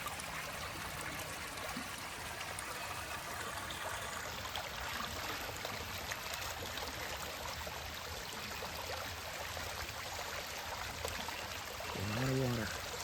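Rainwater runs out of a culvert and down a freshly mowed roadside ditch, a steady broad rushing wash throughout with no speech.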